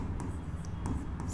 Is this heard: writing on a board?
yes